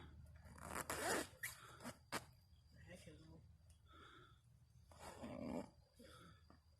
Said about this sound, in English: You gonna zip up the back of it?